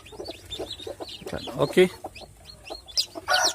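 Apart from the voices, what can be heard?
day-old chicks peeping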